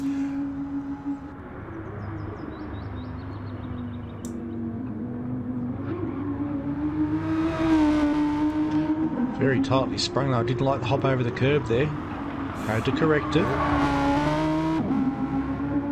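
A mid-engine race car in a racing video game at the Nürburgring GP circuit holds a steady engine drone with rising and falling revs, plus sharper shifts and bursts later, under continuous commentary from two men.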